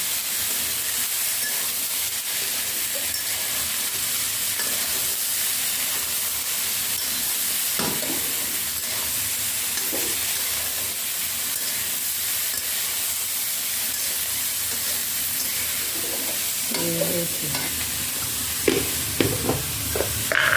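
Steady hiss of food cooking in a pan as turmeric is stirred in, a continuous broadband sizzle with occasional soft utensil knocks and scrapes near the end.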